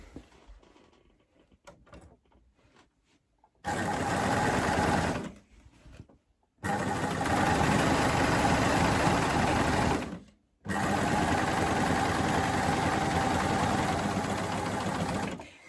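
A coverstitch machine runs in three steady bursts while sewing the final row of a plaid satchel bag, each stretch a dense, even mechanical whir with short pauses between.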